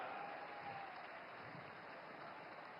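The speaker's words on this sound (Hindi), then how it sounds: "माननीय प्रधानमंत्री जी का तथा मंचासीन सभी गणमान्य विभूतियों का आइए एक बार पुनः जोरदार तालियों से धन्यवाद करें" Applause for India's Prime Minister at a public ceremony marking the flag-off of the Meerut Metro and Namo Bharat train, a steady wash of clapping from a large crowd that stays even and fairly distant for the whole stretch.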